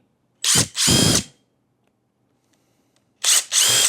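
An electric screwdriver whirs at top speed in two pairs of short, loud, close bursts separated by near silence, used on the back of a Superbank 20 power bank during a repair.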